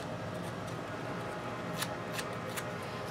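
Edges of a Halloween card are roughed up with a tool, giving faint, soft scraping and snipping sounds with a few brief crisp strokes, quiet and close.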